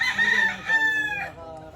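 A gamefowl rooster crows on a game farm, one loud, close crow lasting nearly two seconds with a rising, drawn-out call and no talk over it.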